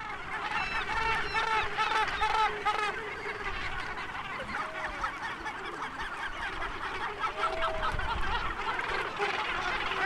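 A noisy gannet nesting colony calling continuously, harsh overlapping cries and honking calls forming a dense, steady chorus.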